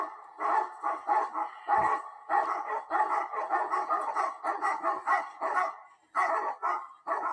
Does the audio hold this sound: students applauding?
no